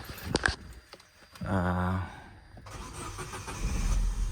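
Clicks and a brief cranking whine, then an Opel Corsa project car engine catches and settles into a low idle nearby.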